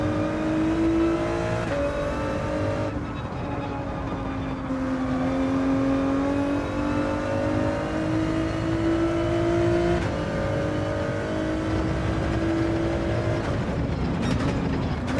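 Car engine in Gran Turismo 7 humming steadily with rising and falling revs as the driver eases off the throttle through corners, a continuous close whine that shifts pitch with gear changes.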